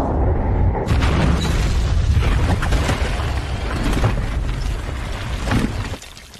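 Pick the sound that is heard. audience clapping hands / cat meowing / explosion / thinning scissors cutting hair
explosion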